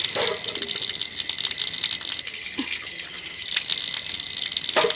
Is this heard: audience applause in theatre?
no